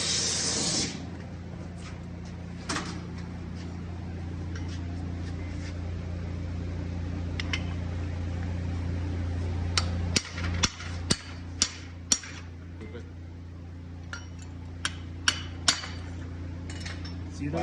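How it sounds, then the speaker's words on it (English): A steel drift hammered through holes in a Hungarian axe head of carbon steel in a workshop, sharp metallic strikes coming sporadically then in quicker bursts toward the end, over a steady machine hum. "here I have a little video of us drifting these 3 holes through the axe."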